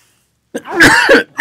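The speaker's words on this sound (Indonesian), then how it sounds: "Aduh, batuk terus" A short run of close, harsh coughs after a moment of silence: one quick cough, a longer hacking stretch, then a final cough.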